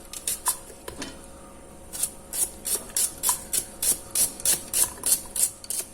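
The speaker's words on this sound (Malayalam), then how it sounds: "തീരെ നൈസായിട്ട് അരിയണം" Onion is chopped finely for a salad on a board, a steady run of quick, crisp knife taps in an even rhythm, close and moderately quiet, with no talking.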